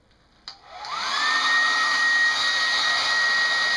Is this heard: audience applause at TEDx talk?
no